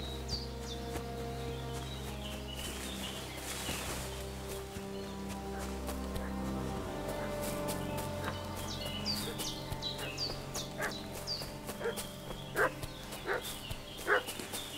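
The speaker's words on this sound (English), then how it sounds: "What's that dog making such a fuss about?" Agitated dog barking and yipping in Kingdom Come Deliverance II, repeated barks growing sharper and louder toward the end, set against a steady ambient game background with some birdsong.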